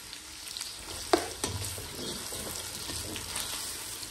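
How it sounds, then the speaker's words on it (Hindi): Onions fry in oil in a pan for a home-cooked daal chicken, with a continuous close sizzle and occasional stirring scrapes and pops. "प्याज में बहुत ही ज़्यादा डाल रही हूँ फिर थोड़ा अच्छा बन जाएगा।"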